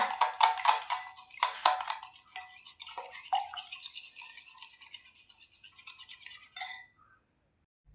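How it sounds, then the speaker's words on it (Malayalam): Three eggs beaten with a pinch of salt in a bowl for a bread-and-egg breakfast, a fast, steady scraping and clinking of the whisk against the bowl that runs for several seconds before stopping, close and unaccompanied. "ഈ മുട്ട ഒന്ന് നന്നായിട്ട് അടിച്ചെടുക്കണം"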